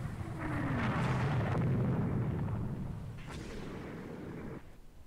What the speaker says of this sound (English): Enemy cruisers hit by a torpedo.